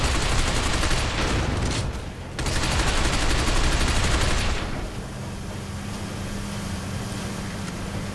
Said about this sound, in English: You're firing now.